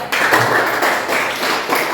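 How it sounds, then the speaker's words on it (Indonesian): Classmates applaud a group of student presenters in a classroom, a close, steady burst of many hands clapping for about two seconds. "Tepuk tangan untuk mereka."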